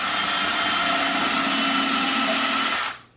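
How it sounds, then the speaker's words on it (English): A power drill boring pilot holes in a wooden coffee table board, making one continuous, loud, high-pitched whirr for about three seconds before it stops abruptly. "And drill your pilot holes."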